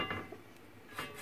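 A large cast iron frying pan being handled in a home kitchen, giving two soft metallic knocks about a second apart, faint and close.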